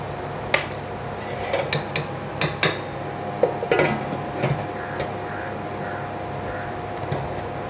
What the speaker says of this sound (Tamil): குக்கரை மூடிடுவோம்.